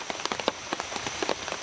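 Steady rain falls outdoors in a soft continuous patter, with scattered louder drops tapping a nearby surface throughout, no voices present.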